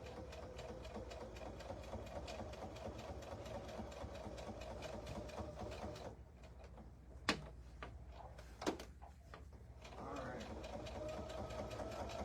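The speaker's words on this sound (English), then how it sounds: "now we're going to just edge stitch around here again." A sewing machine edge stitching around a folded star potholder runs in a steady, close mechanical whir. It stops for a few seconds, with a couple of sharp clicks in the quiet, then starts up again.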